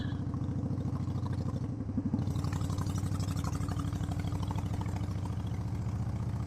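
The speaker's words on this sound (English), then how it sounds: "You probably hear the change in my engine." A vehicle engine drones steadily on a tight, twisty mountain road, with a low rumbling idle-like pulse that shifts character partway through, close and continuous with no talk.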